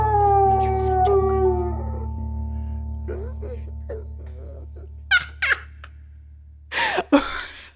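Basset hound named Elvis howling in long wavering notes at first, near and fairly loud, over a low hum, then fading into quieter yips and sniffs with a couple of sharp noises at the end.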